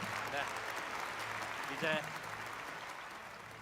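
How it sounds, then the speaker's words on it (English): At a peace prize award ceremony, a soft, distant wash of audience applause for the laureates runs steadily beneath a brief voice. "Please give them a big round of applause."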